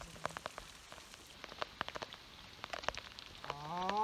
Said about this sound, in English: Rain is just everywhere.